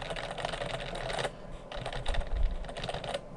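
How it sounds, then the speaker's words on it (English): Fingers type rapidly on a computer keyboard, close up and steady, in bursts of clicking keys with a brief pause midway and no talking. "we could just start typing whatever we want that to have in it"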